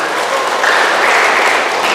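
A church congregation breaks into loud, sustained applause for the singing trio, dense clapping filling the room without pause.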